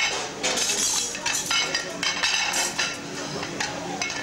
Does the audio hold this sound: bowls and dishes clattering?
yes